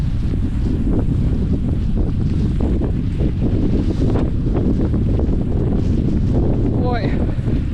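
Strong wind roars on a hillside at a racing start. It is a loud, continuous gusting rumble that buffets the microphone throughout.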